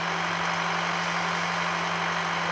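A small tractor engine in Farming Simulator 19 hums at a steady idle with a constant low tone and broad noise, and no speech is heard.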